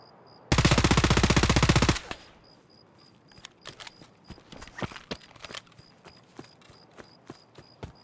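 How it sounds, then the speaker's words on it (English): A sustained burst of rapid gunfire from Escape from Tarkov, attributed to an SVD rifle, rattles loudly for about a second and a half. Scattered sharper distant shots and thuds follow at irregular intervals. "Looks like an SVD to me."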